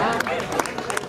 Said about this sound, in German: Ihr klatscht euch auch noch selbst bei